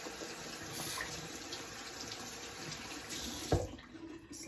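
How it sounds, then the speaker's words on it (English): Water from a bathroom tap running while hands are rinsed, a steady close splashing hiss with a brief louder splash near the end and no talk. "Rinse my hands."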